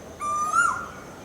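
Asian koel calling from a tree in a garden in Raebareli in May, a single clear rising whistled note, fairly loud and close, standing alone over quiet ambience.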